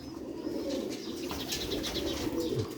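Lightweight Sialkoti pearl-eyed pigeons coo steadily at close range in a soft, continuous, rolling murmur, with a faint flutter of wings among the calls.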